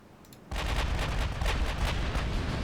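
Battleships open fire in a naval strategy game. The sound starts suddenly as a loud, dense roll of heavy gunfire and keeps rumbling with overlapping booms throughout, with no talk.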